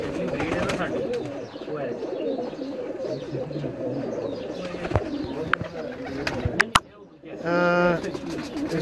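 Domestic pigeons kept by a fancier coo steadily and fairly close, a dense warbling murmur from several birds, with a louder sharp burst near the end followed by a short tonal call.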